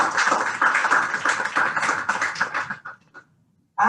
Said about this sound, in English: She deserves for a good round of applause.